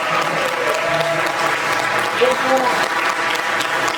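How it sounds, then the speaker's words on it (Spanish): A church congregation applauds during a sermon, dense continuous clapping filling the room, with voices mixed in underneath. "Den un aplauso a tu Dios."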